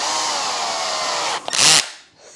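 A cordless power drill in drill mode tightening a fastener on a Locost 7 kit car build, a loud steady high whine that stalls briefly, then a hard ratcheting burst and spin-down, close up with no talk.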